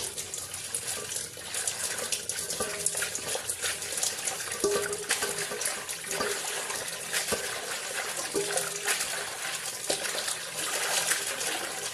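A kitchen tap runs steadily as sweet potato leaves are washed for sinigang na bangus, a constant near gush of water with faint handling clatter underneath and no speech.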